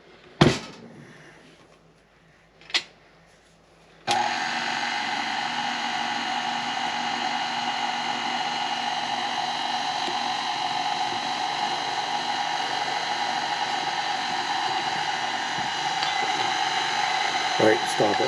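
An electric mixer switches on after a couple of small knocks and runs with a steady, high whirring drone through holiday fruit cake batter, continuing unbroken to the end with faint clatter.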